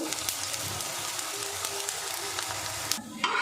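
Oats paratha sizzling in oil on a pan over medium heat: a steady, close broadband crackle and hiss holding level throughout, with a brief dip and a few sharper spits near the end.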